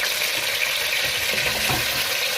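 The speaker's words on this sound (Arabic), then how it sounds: "بشوحه كله كده، اسمعوا فلفل موطه بصل" Pepper, tomato and onion sizzling together in a frying pan, a steady close hiss of oil throughout with faint stirring scrapes, no voices.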